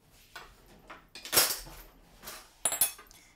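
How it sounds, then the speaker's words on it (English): A metal spoon clinks against a pot or bowl while checking crème anglaise in a kitchen, a few sharp bright taps and scrapes scattered over a few seconds, close and clear with no talking. "grab a spoon, we can have a look on the spoon"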